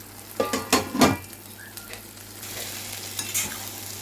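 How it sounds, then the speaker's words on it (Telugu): Fried bitter gourd pieces tipped into a spicy onion-chili masala and stirred, giving a few loud scraping clatters of the spoon against the pan over a soft steady sizzle, then quieter stirring. "ఇప్పుడు మనమైతే ఫ్రై చేసుకున్న కాకరకాయలని దీంట్లో యాడ్ చేసేసుకుందాం"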